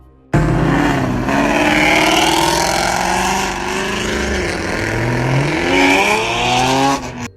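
Cars revving at a car meetup, a loud close engine roar that rises and falls in pitch as throttles are blipped and held, continuous for several seconds before cutting off.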